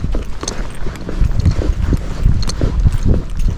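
A Spotted Saddle Horse, a gaited breed, is ridden at a steady walk, its hooves clip-clopping in a close, irregular rhythm of soft thuds and scuffs, loud and continuous with no talk.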